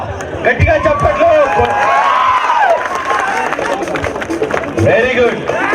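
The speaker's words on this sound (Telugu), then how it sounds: "పెండల హేమలత గట్టిగా చప్పట్లు." A crowd claps and cheers for a prize winner at the Husnabad half marathon awards, with sustained applause and crowd noise under an announcer's amplified voice.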